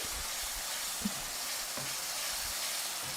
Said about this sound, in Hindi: मटर डाल के हम इसको अच्छे से वापस से भूनेंगे